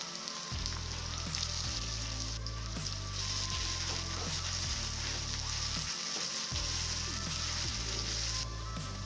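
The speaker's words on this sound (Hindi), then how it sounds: "यहाँ पे हमारा सरसों का तेल गर्म हो चुका है और हम इसमें ऐड करते हैं अनियन" Chopped onions sizzle and fry in hot mustard oil in a pan, a loud steady crackle with occasional stirring, close up and without talk.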